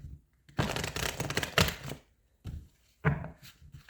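Tarot cards being shuffled on a cloth surface: several quick, papery riffling bursts of uneven length, close and moderately loud, separated by short pauses, with no voice.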